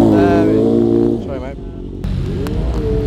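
Yamaha R1 and R6 superbike engines rumble loudly up close in a group ride setting, a deep steady engine tone that drops away partway through and then resumes with a rougher revving growl.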